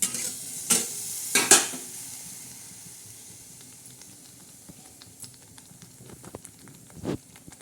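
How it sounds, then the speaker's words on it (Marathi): Spice masala for an Indian egg curry, with green chillies and curry leaves, is stirred in a pan: a few loud scraping strokes at first, then a soft steady sizzle with scattered light clicks and another scrape near the end. "हलवून घेणार आहोत फ्राय त्या मसाल्याला पूर्ण अशी चांगली अशी फ्राय करणार आहोत"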